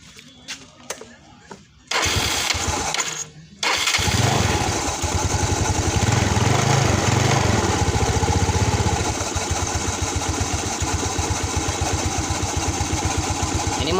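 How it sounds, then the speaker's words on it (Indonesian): A Yamaha Nouvo scooter with weak initial pull is started after a few clicks and brief cranking, then settles into a steady, close, buzzing idle with a rapid even putter, some faint talk early on. "kita hidupkan mesinnya"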